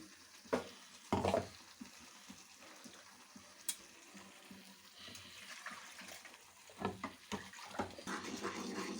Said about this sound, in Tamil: அரைச்சி வச்ச மசாலையை ஊற்றி நல்லா வதக்கிட்டு